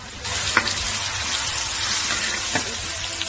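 Sichuan peppercorns, numbing peppercorns and dried chilies sizzle in hot oil in a wok, a loud steady frying hiss with a couple of sharp stirring clinks, no talk over it.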